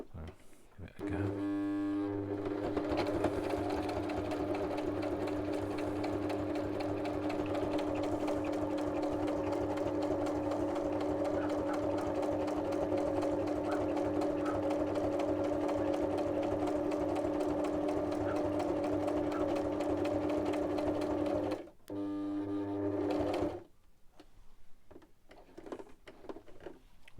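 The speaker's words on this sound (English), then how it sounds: "When the needle's down, lift your foot up and turn it, and it'll pivot on that pivot." Sewing machine stitching press seal window envelopes, a steady fast mechanical whir running continuously for about twenty seconds, stopping briefly and restarting for a moment before falling quiet.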